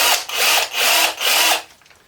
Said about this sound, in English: and I'm about ready to drill it.